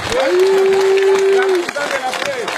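A crowd at a PPRD political rally applauds and cheers loudly, with a long sustained whistle or horn tone cutting through the clapping and shouting voices in the mix.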